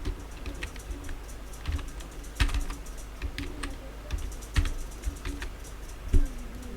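Typing on a computer keyboard while filling in a freelance profile field, a steady run of light key clicks with a few heavier thumps, close and alone with no speech.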